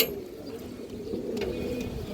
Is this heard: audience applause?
no